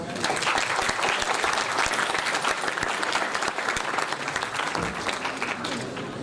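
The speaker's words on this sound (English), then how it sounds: "Please give a huge round of applause for Dr. Mohsin Ali" A conference audience at ICIT 2023 at FAST-NU applauds a speaker, loud, dense clapping that is steady for about six seconds and eases slightly at the end.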